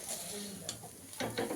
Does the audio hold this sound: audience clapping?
no